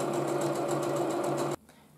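Sewing machine running a zigzag stitch along the collar of a cosplay shirt, a steady close whirring hum with rapid needle ticks that cuts off abruptly near the end.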